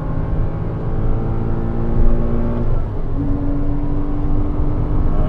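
A race car on the Donington Park circuit accelerates out of a corner, its engine droning loud and close with a rising tone and a gear change midway, no voices over it.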